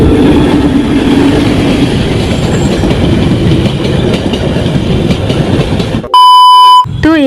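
A passenger train runs loud and close, with continuous rumbling and clattering wheels on the rails for about six seconds before an electronic beep tone cuts in at the end.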